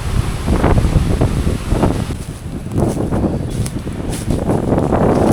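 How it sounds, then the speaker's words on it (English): Loud gusting wind on Little Corn Island, Nicaragua, buffets the microphone with a constant low rumble, rising and easing in waves. "Too windy today"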